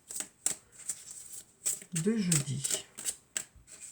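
Oracle cards being shuffled by hand in repeated quick riffling bursts, close and crisp, with someone speaking briefly in the middle.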